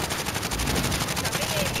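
Rapid automatic gunfire rattles in a Warzone Rebirth match, a fast, even burst of repeated shots with voices talking over it.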